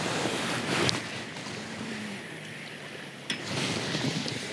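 Gusty wind buffeting the microphone at a feeder fishing spot, a steady rushing roar that swells in brief bursts, loud and close, with no voices.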